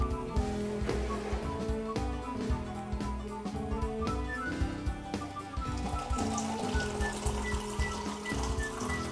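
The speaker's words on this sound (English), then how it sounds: "I'm ready to pour." Brewed coffee poured from a French press into a cup, a steady liquid trickle with light splashing and clinks over faint background music, close and quiet.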